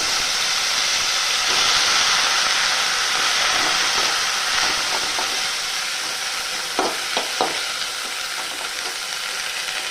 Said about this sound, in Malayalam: നമ്മൾ പയർ തോര ഉണ്ടാക്കാൻ വേണ്ടിയിട്ട് കടുക് ഉള്ളി മുളക് കറിവേപ്പില ഇതൊക്കെ വഴറ്റിയിട്ടുണ്ട് ഈ പയർ ചേർത്ത് കൊടുക്കാം